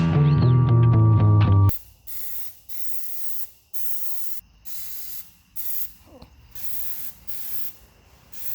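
Plastidip aerosol can spraying rubber coating onto a homemade fishing rod holder: a series of about seven short, loud hissing bursts separated by brief pauses, heard alone after a short musical intro.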